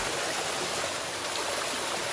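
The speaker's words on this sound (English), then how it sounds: "made it all the way to the actual waterfall" Waterfall in Turkey roaring steadily nearby, a dense even rush of falling water with no other sounds.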